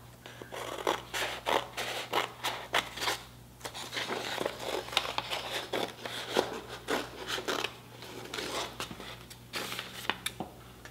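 Scissors snip through folded paper while cutting strips for a ribbon weaving craft, making a steady run of short, close scratchy cuts with brief pauses between them.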